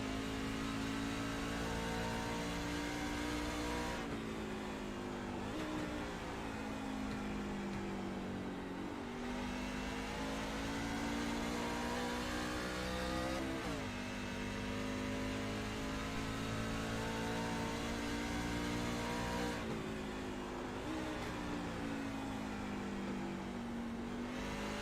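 Onboard Truck Series race truck engine lapping New Hampshire, loud and continuous, revving up through the gears with sharp breaks at the shifts and downshifts, the pitch rising and falling over the lap with no voices.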